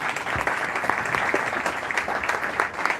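A graduation ceremony crowd applauds steadily, with sustained clapping from a sizeable audience that fills the whole moment without any talk.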